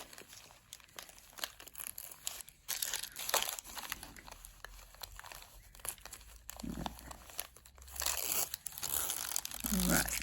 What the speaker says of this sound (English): Take the paper backing off